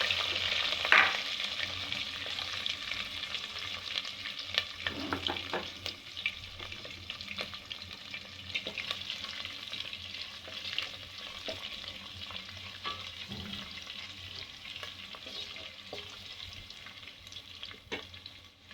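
Green chillies and curry leaves fry in hot oil for a potato side dish, a steady soft sizzle carrying on throughout, with occasional clinks and scrapes of stirring and no talking.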